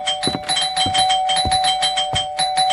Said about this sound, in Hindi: बार बार घंटी बजा रहा है।